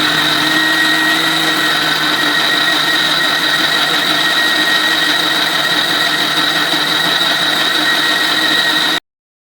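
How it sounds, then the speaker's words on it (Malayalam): A mixer grinder blends eggless cake batter with warm milk, a loud steady whirring motor hum held for about nine seconds before cutting off abruptly. "പാല് ചേർത്ത് കൊടുത്തതിന് ശേഷം ഇതെല്ലാം കൂടി നല്ലതുപോലെ ഒന്ന് അരച്ചെടുക്കുക."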